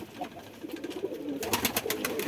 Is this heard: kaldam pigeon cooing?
yes